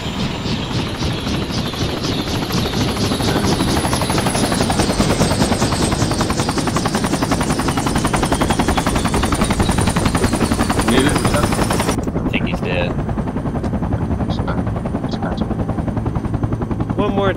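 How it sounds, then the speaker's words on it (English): Helicopter in the military shooter game Project Reality, a loud, close rotor thrum with rhythmic blade chop and whining turbine, accompanied by bursts of gunfire, before cutting out abruptly near the end. "get the chopper"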